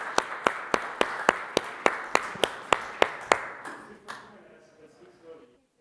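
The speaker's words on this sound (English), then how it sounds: "Let's give them a round of applause." At a startup conference, evenly spaced sharp claps ring out about four times a second for several seconds, then stop and leave a faint room tail.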